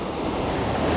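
Sea waves roll against a high dike on the coast at Hai Hau, Vietnam, making a continuous close-up wash of surf with a low rumble, while gusty sea wind buffets the microphone throughout.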